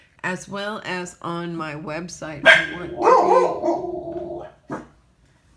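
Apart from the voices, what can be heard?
dogs barking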